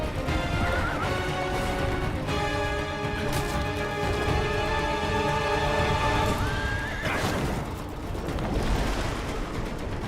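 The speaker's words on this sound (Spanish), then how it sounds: "Domar caballos." Horses neigh and whinny loudly over hoof clip-clop and a swelling orchestral score in a game trailer shown at Gamescom Opening Night Live 2023, with a second shrill whinny near the middle and no talking.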